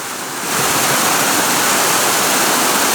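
A waterfall close to its source roars as a dense, continuous rush of water, loud and unbroken once it swells in after a short, quieter start.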